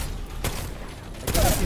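Gunfire in a competitive video game scrim: a dense, noisy burst of rapid shots with a sharp crack near the start and a louder volley at the end, close and harsh, with no clear talking.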